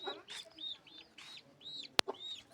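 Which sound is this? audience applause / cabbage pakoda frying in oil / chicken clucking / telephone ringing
chicken clucking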